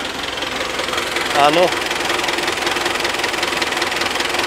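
Tractor engine running steadily close by with a continuous knocking idle rumble, a brief spoken word cutting in partway through.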